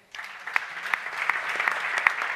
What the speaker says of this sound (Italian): un applauso per questo ragazzo